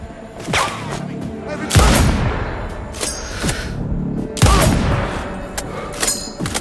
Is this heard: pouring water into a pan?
no